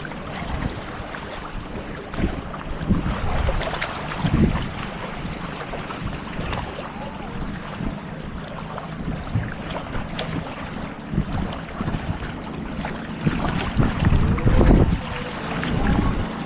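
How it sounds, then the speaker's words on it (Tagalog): Waves slap and wash against a small boat in rough water, a steady loud churn of water and wind buffeting the microphone, with heavier surges now and then and no speech. "Alon. Tatama na sa likod."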